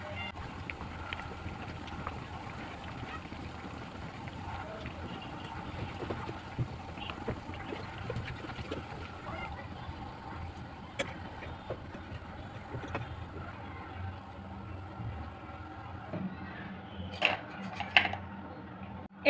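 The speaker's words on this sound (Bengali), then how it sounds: "এখন দ্বিতীয় ব্যাচটা ভেজে নিচ্ছি।" A second batch of crisp flour-and-semolina snacks deep-frying in hot oil gives a steady, quiet, broadband sizzle throughout, with a few light utensil clinks near the end.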